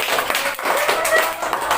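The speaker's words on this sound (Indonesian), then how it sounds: "tepuk tangan lagi" A fifth-grade class claps hands in a short, brisk burst of scattered claps, close and fairly loud, with children's voices mixed in.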